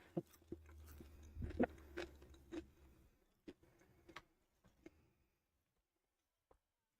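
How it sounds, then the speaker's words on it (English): Close-up ASMR crunching as something hard is bitten and chewed: a few crisp snaps and cracks in the first seconds, then sparse faint ticks fading into near silence. "Chat, you want to hear a crunch?"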